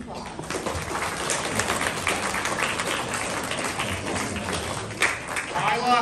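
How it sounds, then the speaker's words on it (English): An audience at an Ohio fifth-grade graduation ceremony claps for students and teachers, a dense, fairly loud round of applause that holds steady throughout with a few sharper claps near the end. "Please give them a round of applause."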